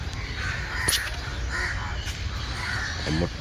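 A crow caws a few times at moderate distance in an open outdoor space, with harsh calls over steady background noise and a brief chirp near the end.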